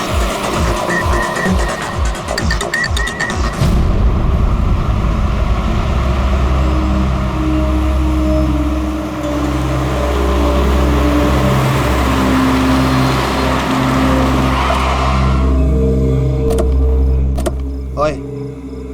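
A car is driven with a steady, close engine and road drone that lasts throughout, while a voice speaks briefly near the start and music and other sounds surface near the end.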